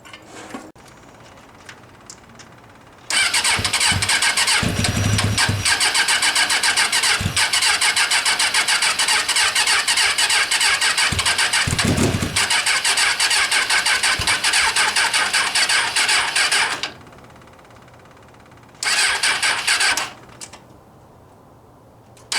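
A mini Jeep engine with a misfiring cylinder cranks, catches and runs loud and close for about fourteen seconds, then cuts out before one more short burst of running.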